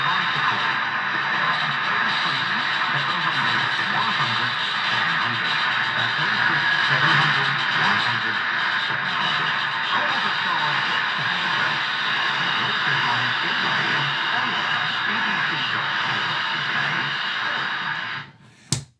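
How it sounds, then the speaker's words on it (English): A medium wave radio receiver tuned to a station, its broadcast buried in steady hiss and interference, continuous and fairly loud until it is switched off near the end. "I'll turn the receiver on, and you can have a listen to how it sounds here"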